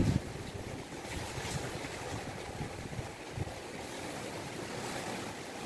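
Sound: strong typhoon Molave winds near the coast

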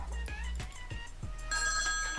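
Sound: telephone ringing

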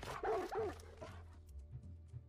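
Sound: dog barking in the video game Far Cry 6

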